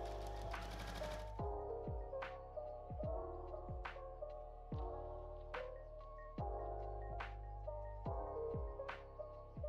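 A sewing machine stitches down the side of a folded sleeve piece cut from a bed sheet, for a puff sleeve dress. After a brief burst of noise it runs in short repeated bursts with pauses between them, steady and close, with no talk.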